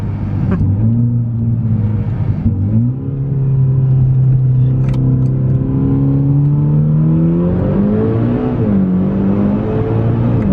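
A Mitsubishi Evo 10 MR with a straight-piped exhaust revs loud and close, a smooth, deep engine note rising and falling through several throttle blips without a break.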